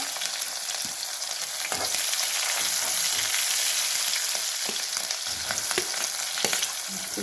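Garlic, dry red chillies and green chillies sizzle in hot oil with mustard seeds, a steady loud hiss with occasional crackles and faint stirring taps.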